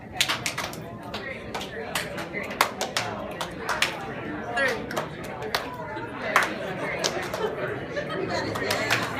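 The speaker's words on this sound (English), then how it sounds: "we're going to replace the 1 with a clap, 2 with a snap, then 3" A group at an improv workshop doing a counting game, clapping and snapping fingers in rough rhythm, the sharp hits scattered and uneven, with chatter and voices running underneath throughout.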